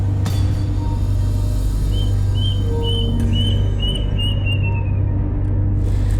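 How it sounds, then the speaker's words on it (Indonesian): Short, high bird chirps repeat in a quick series against a steady low rumble of background noise. "suara burung cuit-cuit ya?"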